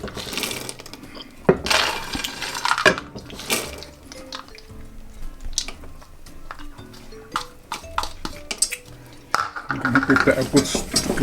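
Peanuts are stirred in a pan for Indian peanut chikki, giving rattling, scraping bursts of stirring with quieter gaps between, close by and fairly loud, with a brief voice in between.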